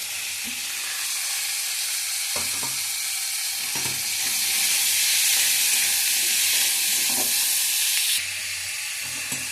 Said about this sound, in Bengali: পেঁয়াজের সাথে সাথে আদা গ্রেট করা আদাটাও দিয়ে দেবো, কাঁচা লঙ্কাটাও দিয়ে দেবো, দিয়ে এগুলো ভালো করে ফ্রাই করবো